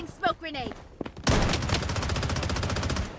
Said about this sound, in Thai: เกิดเหตุการณ์ยิงกันแถวนี้ได้ยินเสียง